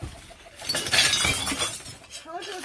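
Glass shatters and clinks while someone rummages through a dumpster in the rain, a burst of breaking near the start with people talking over it.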